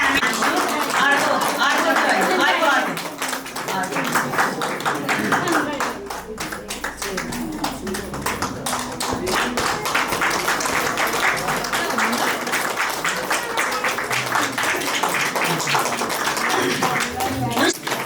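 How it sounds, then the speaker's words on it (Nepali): Guests at a Gorkha wedding clap loudly and steadily under a speaker's voice. The rapid, dense clapping runs almost continuously throughout. "हामी दुवै पक्षलाई सबैले जोरदार ताली बजाएर"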